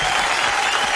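An audience breaks into steady, full applause for comedy-show performers, a dense wash of clapping that fills the whole short moment without a break.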